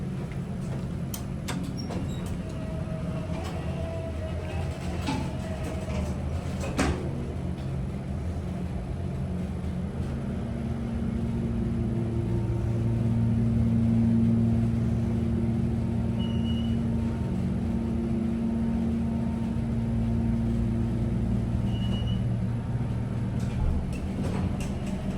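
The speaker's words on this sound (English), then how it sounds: "hopefully we're able to hear the motor well" A steady low hum and drone from the motor of a hydraulic elevator at a university student services building in Houston, running continuously and swelling slightly midway, with faint clicks early on and no talking.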